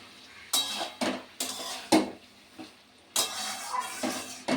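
Flour being stirred into spinach in a pan for a Bengali spinach dish, with a utensil scraping and knocking against the pan in a series of distinct strokes, quiet between them, close and clear, with no talk.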